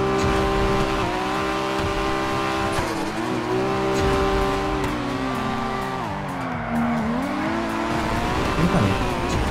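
A video-game car engine revving steadily, its pitch rising and falling through gear changes, with tyre squeal in the mix, loud and close throughout with no voices.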